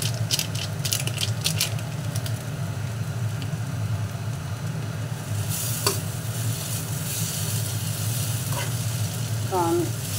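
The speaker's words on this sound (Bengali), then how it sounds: "এর মধ্যে আমি একটু গরম মশলা মিশিয়ে দেব।" Garam masala stirred into onion and garlic frying in a pan, a steady low sizzle with occasional scrapes and clinks of the spoon, moderately close.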